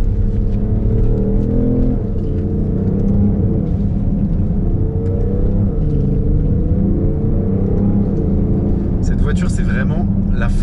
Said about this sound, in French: Le moteur pousse beaucoup, il pousse fort. Et il a une sonorité assez discrète